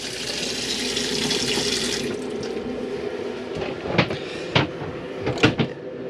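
Water runs steadily from a pump-pressurised tap into the kitchen sink of an Auto Trail Tribute F68 motorhome, a close continuous rush that stops halfway, followed by several sharp knocks and clunks.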